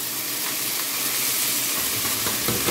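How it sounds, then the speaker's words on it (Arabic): Washed rice sautés in oil in a pot, a loud continuous hissing sizzle up close with faint stirring scrapes, no voice over it. "هديله بقى تسويحه معايا كويسه"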